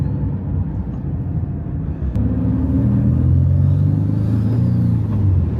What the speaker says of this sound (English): It's a drift car